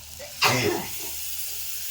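A sudden loud hiss as water hits hot oil and fried sambar masala, sizzling sharply then settling into a softer steady bubbling.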